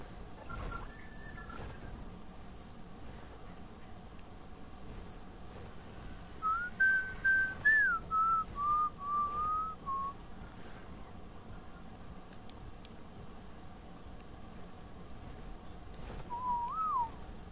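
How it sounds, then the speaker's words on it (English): A person whistles short melodic phrases during a late-night video game session, a brief high note early on, then a longer wavering tune mid-way and a short closing phrase, faint over a quiet background. "I'm gonna whistle those so I can go fast."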